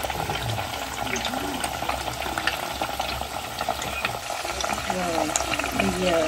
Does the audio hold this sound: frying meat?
yes